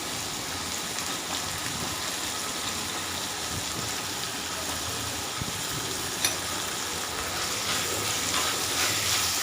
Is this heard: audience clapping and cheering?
no